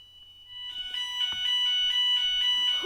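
A home fire alarm starts up and keeps sounding, a shrill electronic tone pulsing in a steady repeated pattern, close and growing louder, with a short knock partway through and no talk.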